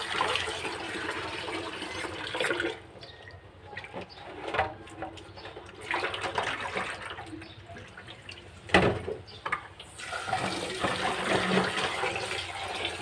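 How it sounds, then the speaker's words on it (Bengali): Sajna drumsticks being rinsed under running water, a steady splashing wash with a few sharper splashes and bursts, close by, with faint bird calls in the background and no talking. "প্রথমে সাজনাটা ধুয়ে নিতেছি।"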